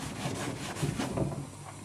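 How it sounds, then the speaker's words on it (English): A plastic brush scrubs gunk from a rusty car part wet with prep sol, making rhythmic back-and-forth rubbing strokes, close and quiet, with no speech. "I'm just using a bit of prep sol there, and an old, it's not a wire brush, it's just one of those plastic brushes"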